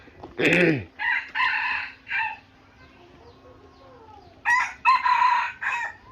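A rooster crows twice outdoors, each call a loud, close, multi-part crow, separated by a quieter gap with faint background sounds.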